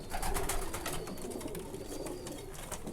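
A three-year-old tube light bajrai breed pigeon in Karachi gives repeated soft cooing calls, close and fairly quiet, over a low background hum with no talk.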